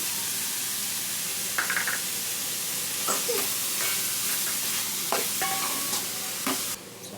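Onion, tender jackfruit and grated coconut frying in a pan, a steady close sizzle with scraping stirs and light clinks of a spatula throughout.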